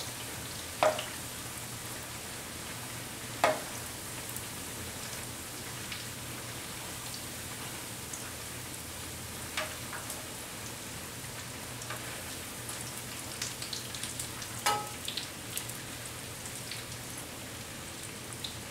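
Fritters deep-fry in hot oil with a steady, soft crackling hiss and a few sharper pops scattered throughout; no one talks.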